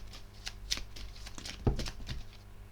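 Oracle cards shuffled by hand in a quiet room, a run of soft riffling flutters and light slaps with one sharper snap of the deck partway through, no talking.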